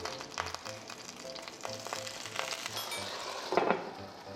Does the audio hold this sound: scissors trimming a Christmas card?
no